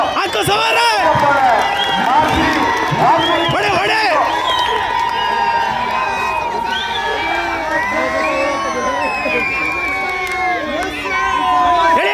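A dense crowd at a kushti wrestling event cheers and shouts continuously, with many excited voices, including children's, overlapping loudly and close by throughout.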